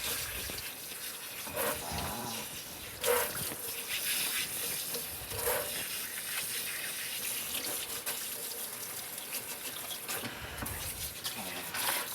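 Running tap water steadily rinses a Maltese dog in a sink, a continuous close splashing wash with a few brief louder spurts as the flow shifts over the coat.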